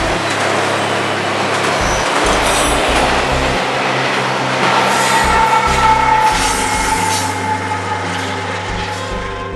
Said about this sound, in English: with the NASA train coming